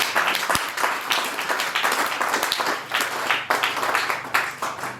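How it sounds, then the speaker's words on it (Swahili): Audience at a church mission meeting at Mogumo Market in Kisii County breaking into lively applause, many hands clapping close by in uneven bursts that swell and ease over several seconds. "Hebu mnipigie makofi kama mnaelewa."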